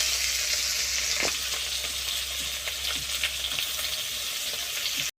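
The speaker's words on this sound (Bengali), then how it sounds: "লাল করে ভেজে নেব।" Two medium chopped onions fry with bay leaves in oil, a constant crackling sizzle up close, stirred now and then with light scrapes, ending abruptly.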